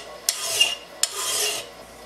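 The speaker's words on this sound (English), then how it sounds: "I'll generally put mine back in the vise and take the file across it just to kind of dress it up." Two slow rasping strokes of a hand file drawn across a lawnmower blade clamped in a vise in a basement workshop, each stroke starting with a sharp scrape, close and clear with no voices.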